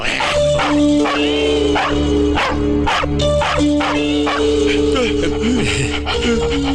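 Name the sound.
dog barking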